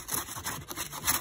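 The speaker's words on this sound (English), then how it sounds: "Here, sand those down" Small wooden pieces for a kuripi pipe are sanded by hand, giving quiet, close rasping strokes that come in a few uneven rhythmic pulses.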